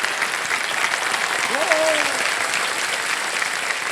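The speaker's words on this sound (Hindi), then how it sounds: "इनके लिए एक बार तालियां बज जाएं" A television quiz show's studio audience breaks into dense, sustained applause that holds at an even level throughout, with a brief voice rising above the clapping midway.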